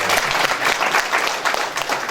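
Loud, close audience applause at a Hindi poetry gathering, a thick, continuous burst of many hands clapping with no voices over it.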